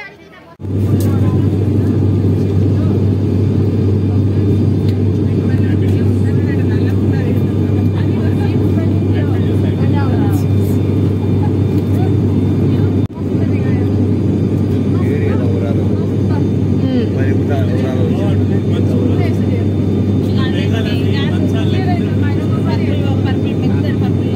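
Loud, steady roar of an airplane engine with a constant low hum, heard from inside the cabin on a flight to Kathmandu, with a soft thump near the middle.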